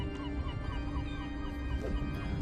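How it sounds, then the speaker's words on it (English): Birds calling at dawn by the sea, a scatter of chirps and honk-like calls layered over a constant low background rumble, moderately near. "The birds are waking up a little bit too."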